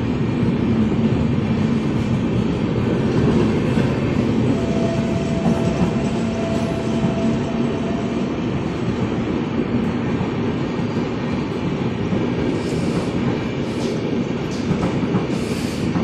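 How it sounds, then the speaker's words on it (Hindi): Rajdhani Express passenger train rolling past close by, a loud steady roar of wheels and carriages with continuous rumble and clatter that holds for the full stretch, faint squeals rising near the end. "ट्रेन जाएगी जाएगी निकलेगी।"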